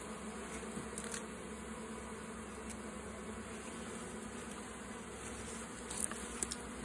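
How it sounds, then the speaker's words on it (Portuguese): A dense swarm of honeybees buzzes around an opened beehive during a honey super inspection, a steady, even hum that fills the whole stretch without pause. "Bastante abelha nesse enxame"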